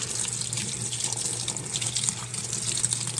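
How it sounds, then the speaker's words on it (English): Water gushes steadily from a tap into a container being refilled, a loud close continuous splash with a faint underlying hum. "I'm only refilling one container because I don't have any more to fill up."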